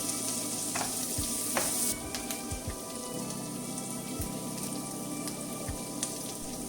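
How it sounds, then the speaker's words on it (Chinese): Cured pork and garlic sprouts sizzle in a wok just after the lid is lifted, a loud continuous frying crackle with scattered sharp spatters and scraping stir strokes, and no voices. "打开锅盖翻炒"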